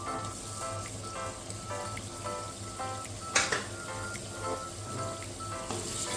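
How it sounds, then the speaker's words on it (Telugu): Ginger garlic paste fries in a hot pan, a steady soft sizzle and crackle that holds for several seconds, close and fairly quiet, with no talking. "అల్లం వెల్లుల్లిపాయ పేస్ట్ కూడా బాగా ఫ్రై చేసుకోవాలి."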